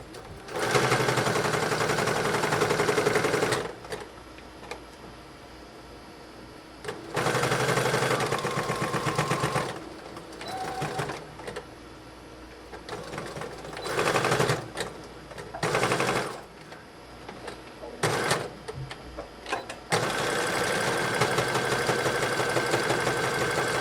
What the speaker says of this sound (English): We're going to take this to the machine now. We're going to straight stitch all the way across here at 5/8 inch.